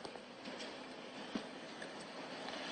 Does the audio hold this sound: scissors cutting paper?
no